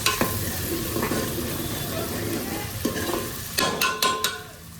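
Steady sizzle of chili frying and burning in a hot pan, with a few sharp scraping stirs near the end; no voices.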